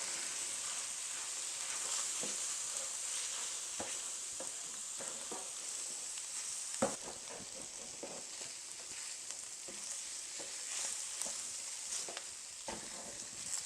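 Stroganoff with flour stirred in sizzles steadily in a pot, a soft continuous frying hiss broken by scattered spoon scrapes and clicks against the bottom, close but quiet.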